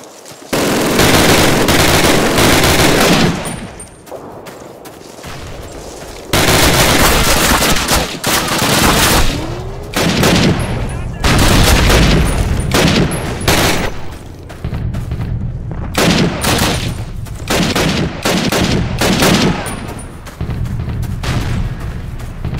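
MG-42 machine guns fire in the Call of Duty (2003) American campaign, loud sustained bursts of rapid automatic gunfire with booming explosions and battle noise, continuing with brief lulls throughout.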